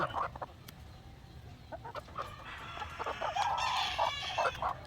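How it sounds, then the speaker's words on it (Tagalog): White leghorn hens in a farm coop cluck repeatedly in short, close bursts, with some higher calls and crowing-like sounds mixed in over a steady background. "Siyam na white leghorn na babae."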